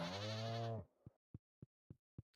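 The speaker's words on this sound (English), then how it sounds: "Look at these baby sheeps, baby goats." A baby sheep in the Stardew Valley farming game gives one long, loud, wavering bleat, followed by a series of soft, evenly spaced tapping footsteps.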